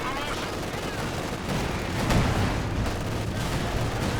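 A tank's main gun firing at a half-track in the video game Company of Heroes 2, amid continuous rumbling gunfire and battle noise, with one heavier blast swelling out of the din.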